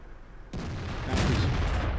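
A tank cannon shot from a Chinese tier 8 tank in World of Tanks ricochets off the side of an enemy turret: a sudden loud boom with a sharp metallic clang, then sustained rumbling roar, with no talking.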